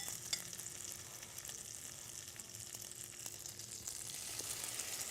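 Bread slices for French toast fry in a pan, a faint steady sizzle with small crackles and pops, soft and close, with no one speaking.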